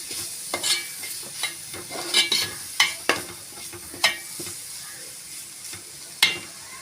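Chili powder masala sizzles in a pan for Kola fish kulambu, with a steady frying hiss broken by repeated sharp scrapes and clinks of a spoon stirring through the spice paste.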